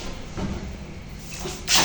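A door is handled over about two seconds: a soft low rumble and clunk early on, then a sharper knock or latch near the end, close by under steady background noise.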